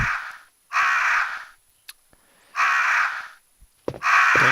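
Crows cawing in a Resident Evil game: three loud, evenly spaced caws with a fourth beginning, each a rasping burst separated by quiet gaps.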